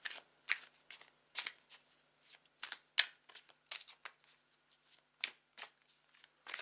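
Tarot cards are shuffled in a quiet room, producing a series of soft, close riffling bursts at an irregular rhythm with near-silence between them.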